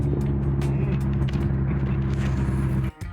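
A Vauxhall Astra VXR track car drives with a steady, loud engine drone and low rumble throughout, cutting briefly near the end before resuming, with no talk.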